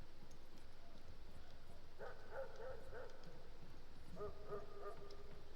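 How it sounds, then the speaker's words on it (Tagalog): Faint video-game K9 police dog barks in two short bursts, a few yips each, set against a low ambient background with soft rumbling. "may naririnig na aso kasi may K9 dito"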